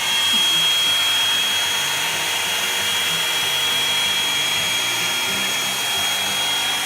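A Revlon hair dryer volumizer brush runs on its high setting, a steady close whooshing blower roar with a constant whine that holds evenly from start to finish with no talking.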